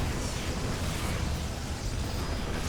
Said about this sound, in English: Tank volley's going up.